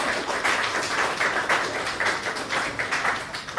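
Applause for Mr. Nagayama at a hockey draft party at the Sport Corner, a moderate patter of hand claps from a modest crowd, fairly even and continuous, with no voices.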